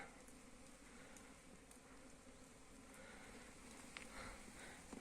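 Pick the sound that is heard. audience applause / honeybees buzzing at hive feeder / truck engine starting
honeybees buzzing at hive feeder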